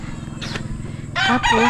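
A fighting rooster kept for cockfighting crows close and loud in a short burst near the end, preceded by a steady low hum and a brief spoken word.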